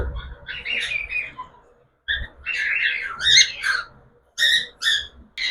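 A pet cockatiel gives shrill, squawking calls in several close bursts separated by short pauses, loud and alone with no talking.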